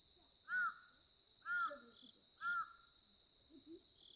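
A crow caws three times at an even, slow pace, clear and fairly close over a steady high insect drone, at a campsite in the morning.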